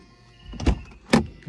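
A Mercedes-Benz GLC 300 Coupe locks itself with two distinct mechanical clunks about half a second apart, fairly close and solid, with quiet cabin hum between them and no voices.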